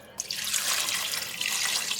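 A short, steady pour of soy sauce splashing into a cooking pot, close by and continuous for a couple of seconds.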